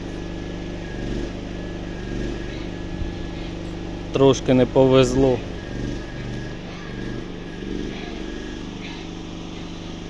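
A tractor engine runs at a steady, low, droning idle throughout, with a brief burst of Ukrainian speech over it partway through.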